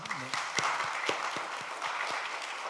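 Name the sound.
applause welcoming a church visitor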